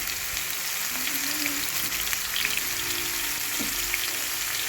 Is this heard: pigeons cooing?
no